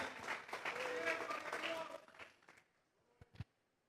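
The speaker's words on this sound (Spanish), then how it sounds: "Vamos a regalarle ofrendas de palmas al Dios de la gloria." A church congregation applauding during a sermon, a burst of clapping and cheering that fades after about two seconds, followed by a few isolated claps and quiet.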